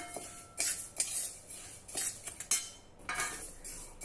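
Urad dal rattles and scrapes in a dry pan as a spatula stirs it in quick, repeated strokes, close by with no talking.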